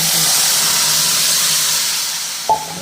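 Cashews and raisins frying in ghee, heard as a steady loud hiss of sizzling fat that slowly fades, with a brief clink near the end.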